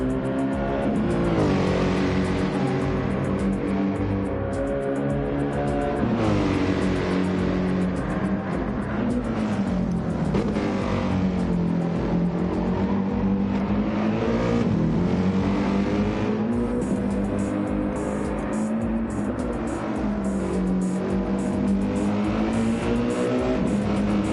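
AMG race cars in a GR3-class racing video game roar continuously, with loud, close engine drone rising and falling through revs and gear changes and no pauses.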